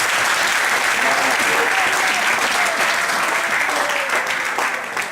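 A church congregation applauding in sustained, dense clapping that stays loud and even throughout before easing slightly at the end, with voices faintly mixed into the crowd.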